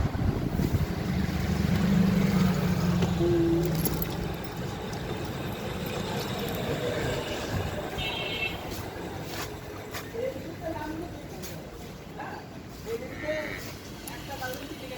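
A second-hand Yamaha FZS V2 motorcycle engine runs at a steady idle, a low continuous rumble with wind buffeting the microphone. Voices talk over it at times.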